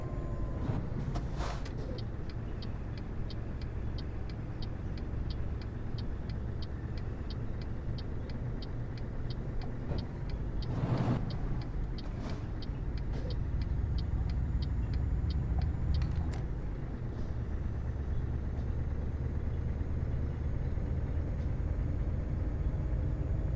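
Scania truck hauling a 22-tonne load in Euro Truck Simulator 2, a steady low engine drone and road rumble holding throughout, with a faint rhythmic ticking like an indicator running over it.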